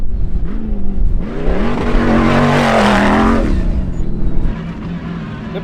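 Optimus Dakar V8 race car accelerating hard up a sand dune, a deep rising engine roar building to a loud peak and then easing off, heard from inside the car without talk.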